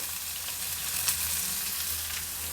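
Finely chopped onion and green chilli frying in a pan, giving a steady, close hiss of sizzling with a brief stir partway through and no voices.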